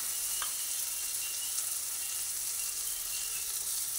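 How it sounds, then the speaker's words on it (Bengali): Faint, steady sizzle of ginger frying in a little oil with spices on a low gas flame, with one brief utensil tap, heard close with no talking. "এরপর আমি এর মধ্যে আদা দিয়ে দিলাম। আদাটা এরপর ভেজে নিচ্ছি।"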